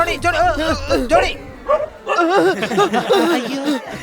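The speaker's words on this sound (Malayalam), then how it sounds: "സൂസേ നിന്റെ നായ്ക്ക് കാലത്തോട്ട് നല്ല വിശപ്പാണെന്ന് തോന്നല്ലോ" A dog barks and yips in quick, excited bursts close by, mixed with voices talking, with a brief pause between the two flurries.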